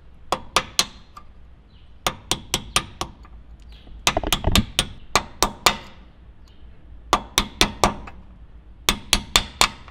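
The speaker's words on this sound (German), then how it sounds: "Erst mit dem Hammerkopf, dann nochmal mit dem Durchtreiber." Sharp metallic strikes of a hammer and drift punch on Unimog brake pins ring out in quick bursts of three to five blows, pausing between groups, close and loud.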